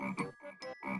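A frog croaks in three short, throaty pulses, close and fairly quiet, with brief gaps between them.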